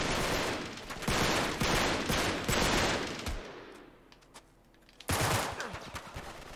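Dense automatic gunfire in Uncharted 3: Drake's Deception, loud rapid bursts layered with impacts, briefly thinning to a lull before another heavy volley erupts near the end.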